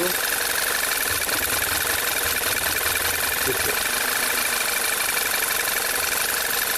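A VW turbo GDI engine with a misfiring cylinder idles roughly nearby, loud and continuous with an uneven, shaky pulse and a faint mechanical knock.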